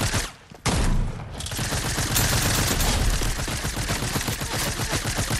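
Rapid gunfire from the video game Fortnite erupts after a brief pause and continues as loud, dense bursts of shots for several seconds.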